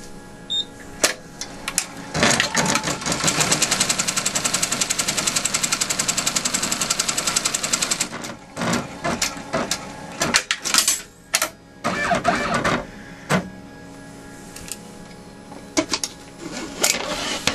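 A sewing machine runs a seam line on a crazy quilt block, with a steady rapid stitching chatter for several seconds, then stops and starts in short bursts alongside handling noises.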